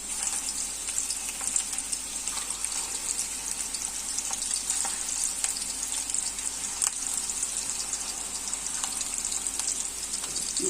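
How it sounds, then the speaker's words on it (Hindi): Haryali kababs fry in oil over low heat, giving a steady close sizzle and crackle with scattered pops throughout and no talk. "स्लो हीट पर हमने इसे फ्राई करना है।"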